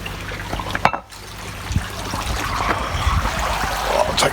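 Water gushes steadily out of a koi pond pressure filter outdoors, a continuous splashing trickle with a short pause near the start and no talking.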